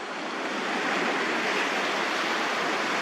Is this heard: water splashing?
yes